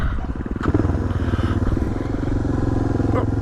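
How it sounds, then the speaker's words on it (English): A Suzuki DR650 motorcycle engine labouring in desert sand, a loud close throbbing drone that bogs down and holds a steady heavy pulse as the rear wheel spins. "You can hear the motor pull down"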